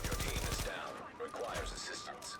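Gunfire in the video game The Division starts as a rapid, loud burst of automatic shots, then thins to scattered shots under a busy game soundscape.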